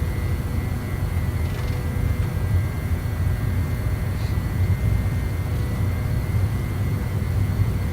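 A steady, broadband roar of an MD80 jet's engines rolling down the runway for takeoff in the X-Plane 11 flight simulator, sustained and even with no talking.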